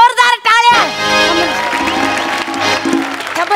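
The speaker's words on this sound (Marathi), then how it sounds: "जोरदार टाळ्या" Loud applause and cheering from a large audience at a comedy awards show honouring comedian Samir Chougule, rising after a brief spoken intro and then filling the hall steadily.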